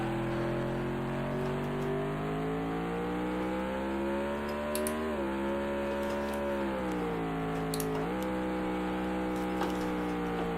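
Race car engine in a NASCAR sim racing video game, a steady high whine with harmonics that rise and dip as the car accelerates and eases off, with other cars faintly nearby.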